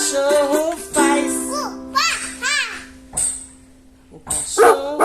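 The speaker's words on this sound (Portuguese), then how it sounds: "O cachorro faz." In a children's animal-sounds song, a dog barks and whimpers in short yips between sung lines, close and loud, alongside a voice and music.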